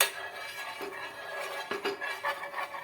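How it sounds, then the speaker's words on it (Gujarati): A metal spoon scrapes and clinks against a hot griddle while spreading a spoonful of oil for a semolina breakfast batter, with light scraping throughout and a few sharper knocks near the middle and end. "1 ચમચી તેલ નાખી આ રીતે આપણે ફેલાવી દેવાનું"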